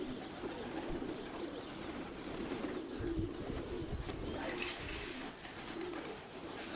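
Pigeons cooing on a rooftop, a soft, low repeated coo blended into steady outdoor ambience, fairly faint and continuous with no talk.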